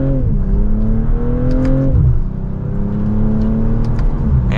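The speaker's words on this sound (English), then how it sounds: "with one last acceleration, that's going to wrap it up for the 2025 BMW M440i" A 2025 BMW M440i Coupe accelerates hard, its engine note climbing through a gear, dipping at a shift and then pulling again; loud, steady and close from inside the car, with no talk.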